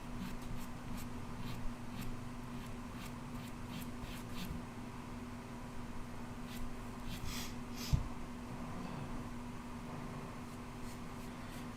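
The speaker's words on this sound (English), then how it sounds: "I'm using an aggressive eraser, and so I'm not getting too specific" An aggressive eraser rubs ink off Canson Colorline paper in soft, repeated scrubbing strokes, faint and close over a steady low electrical hum, with one small knock partway through.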